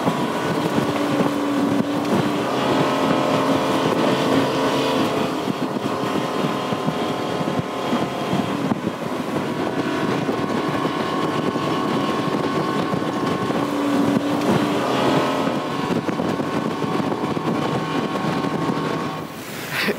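A Bennington QX28 pontoon boat with a Yamaha 425 XTO outboard makes a full-throttle run at about 5,800 RPM. The engine gives a loud, continuous roar, mixed with heavy wind buffeting and rushing water throughout.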